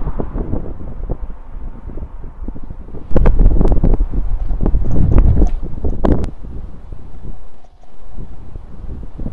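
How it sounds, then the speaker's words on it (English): Steady outdoor wind buffeting the microphone, a loud continuous rumbling roar that swells and gusts throughout with no voices. "Windy."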